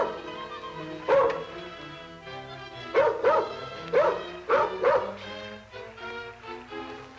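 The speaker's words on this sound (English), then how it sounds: "I guess the dog ain't used to boats." A dog on a boat barks in a series of sharp, loud yips and whimpering bow-wows, several bursts spaced unevenly and close by, with no talk over them.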